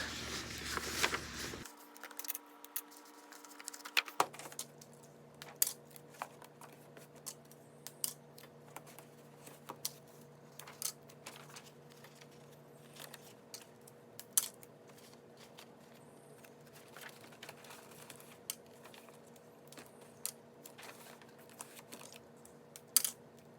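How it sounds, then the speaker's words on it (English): Black construction paper taped onto the outside of a box, with faint repeated tape pulls, crinkles and small taps scattered through a long quiet stretch, close and soft with no talking. "I'm just going to tape it to the outside of the box"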